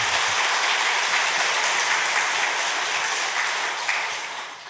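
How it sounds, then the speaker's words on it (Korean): A church congregation applauds the choir during a Sunday worship service, a dense, even clapping that holds steady and then fades slightly toward the end, with no talk over it. "우리 찬양대 박수 한번 해드릴까요?"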